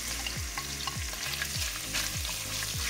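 Onions frying in a pan, a dense constant sizzle close up, with a rhythmic series of scraping stirs roughly every half second throughout, no voices.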